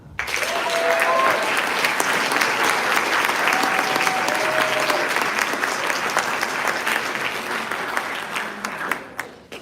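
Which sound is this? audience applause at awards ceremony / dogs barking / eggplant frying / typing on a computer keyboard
audience applause at awards ceremony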